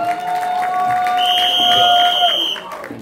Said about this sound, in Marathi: तर एकदा जोरदार टाळ्या होऊन